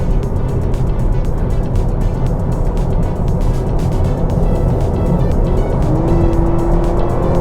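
A Honda Civic Hybrid e:HEV accelerates hard, heard from inside as a loud, steady engine and road drone that holds for several seconds, with a rising tone appearing near the end.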